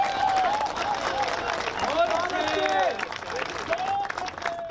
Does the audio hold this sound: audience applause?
yes